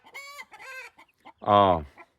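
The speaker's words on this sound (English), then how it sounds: "Chickens decide to get loud." Chickens cluck in short bursts nearby on a high desert mountain, then one bird lets out a loud, drawn-out squawk near the end.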